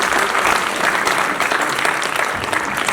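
Sustained applause from an audience at a cultural festival inauguration ceremony as the event sponsor is honoured, a steady, dense clapping that holds for the full stretch without talk.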